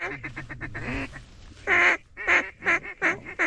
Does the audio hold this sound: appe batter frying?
no